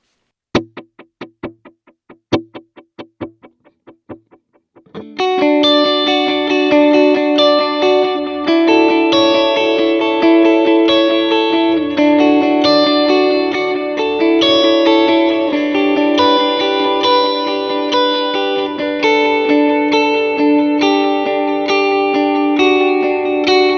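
Electric guitar with a worship-style tone drenched in delay and chorus: a few sparse plucked notes, then a full, sustained wash of shimmering repeats and swelling chords that rings on steadily and loudly with no talking.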